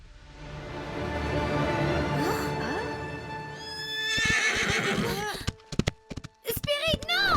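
In the video game Spirit, a horse neighs and whinnies while hooves clip-clop, first under a steady game ambience and then in sharper, broken bursts near the end, with talking voices in between.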